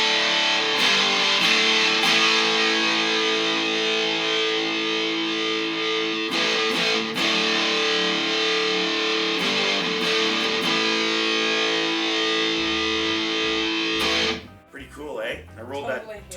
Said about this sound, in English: I'm just going to hit a couple of chords again.